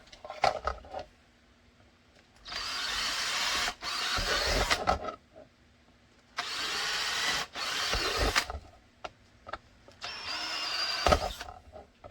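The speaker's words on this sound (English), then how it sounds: "I'll drill these 4, leave those 2 to the end, and then drill those." A power drill whines through three long bursts drilling holes in metal, each lasting a couple of seconds, separated by quieter pauses with small clicks and handling noises.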